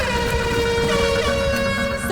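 A loud, sustained horn blares continuously, its rich harmonic tone slightly wavering in pitch before cutting off.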